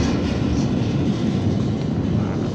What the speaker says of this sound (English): the train went over this bridge.